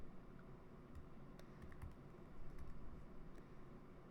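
Faint typing on a computer keyboard while coding in Android Studio, a few scattered soft clicks and short bursts of keystrokes against a quiet room hum.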